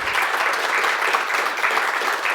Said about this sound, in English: I deserve a real round of applause for that